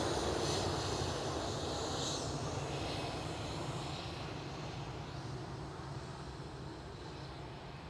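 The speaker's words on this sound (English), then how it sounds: "And another 737-700" A KLM Boeing 737-700 jet at Schiphol produces a broad, continuous engine roar that slowly fades a little over several seconds, heard alone.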